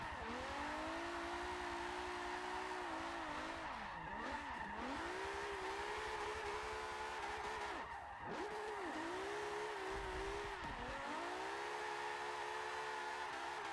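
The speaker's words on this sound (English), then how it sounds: "The engine just sounds so nice." A 1969 Nissan Fairlady Z tuned to 439 bhp for drifting in Forza Motorsport 7, its engine holding a loud, steady high-rev howl with constant tire squeal, dipping briefly a few times as the revs fall and climb again.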